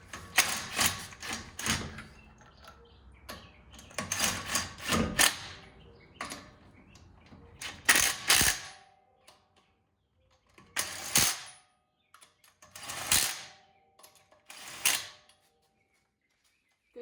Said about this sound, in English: Good job torquing those down.